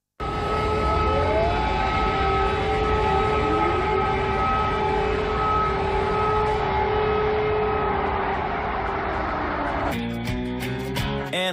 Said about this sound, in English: Air raid sirens ringing out in Kyiv just hours ago.